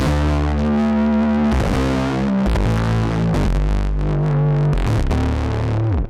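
A gritty, heavily distorted Juniper 8 synthesizer plays a solo line in shifting notes, loud and buzzing, with squealing feedback edges.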